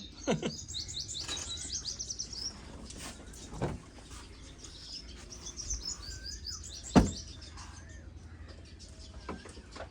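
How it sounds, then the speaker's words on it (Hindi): An Asian koel calls from far off among other chirping birds in a village orchard, with faint rising whistles, scattered tweets and a few sharp knocks nearby. "दूर कहीं से कोयल की आवाज़ सुनने को मिल रही है।"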